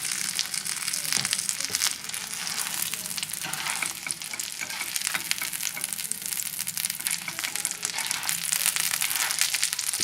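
Chicken breast coated in panko breadcrumbs frying in olive oil in a pan, a dense, steady sizzle and crackle with occasional stirring scrapes, close and continuous for the whole stretch, no talking.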